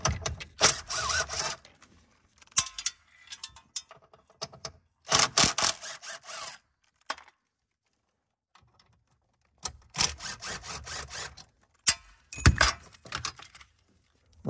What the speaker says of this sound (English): I should be able to get my ratchet in there and see if we can tighten things up